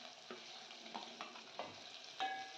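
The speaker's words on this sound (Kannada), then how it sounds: "ಎಣ್ಣೆಲಿ ಚೆನ್ನಾಗಿ ಹುರ್ಕೋಬೇಕು ಈರುಳ್ಳಿನ ಲೋ ಫ್ಲೇಮಲ್ಲಿ ಇಟ್ಟು ಚೆನ್ನಾಗಿ ಹುರ್ಕೊರಿ" Onions and green chillies frying in oil over a low flame, a soft steady sizzle with light stirring scrapes and taps from a utensil in the pan.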